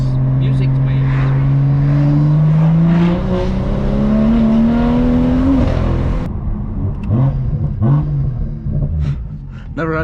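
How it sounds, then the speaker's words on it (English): A straight-piped BMW M2 exhaust drones loud and close while driving a country road, the note rising steadily under throttle before a sharp break as the revs drop and a burbling, rumbling exhaust follows. "You can really hear when the boost starts kicking in. The whole exhaust note changes."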